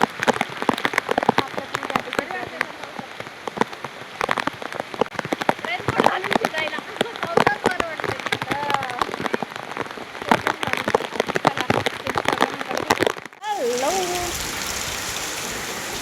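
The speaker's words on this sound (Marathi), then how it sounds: "पाऊस पण खूप जोरात आलेला आहे. खूप जोरात पाऊस आलाय." Heavy monsoon rain near Bendewadi waterfall close to Lonavala drums loudly and steadily on surfaces, with people talking over it before the sound shifts to a duller, sheltered downpour near the end.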